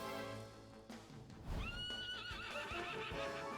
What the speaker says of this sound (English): Some Asian kind of horse, isn't it?